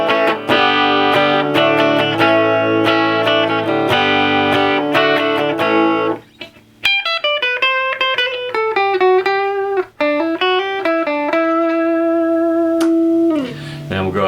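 Electric guitar on the bridge pickup through a Peavey Bandit amp with reverb off: chunky chords strummed for several seconds, then sustained single notes and bends ringing out and fading.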